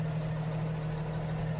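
A heavy-haul video-game truck with a triple rear axle and a roughly 735-horsepower engine idles steadily, a low, even rumble with a constant hum and no change in pitch.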